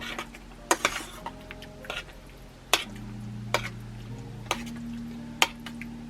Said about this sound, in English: I'm going to stir everything in with this spoon for right now, just to get the sour cream off of this spoon